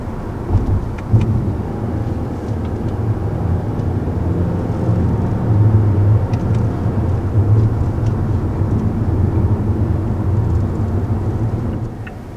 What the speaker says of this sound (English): Go into the manual mode and shift with the paddles.